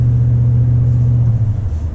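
Engine and exhaust of a 2019 Toyota Tundra TRD Pro revving, heard from inside the cab as a loud, steady low rumble that sags slightly near the end.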